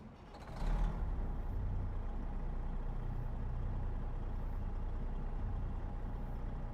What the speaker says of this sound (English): this truck is seriously not as loud as my other truck.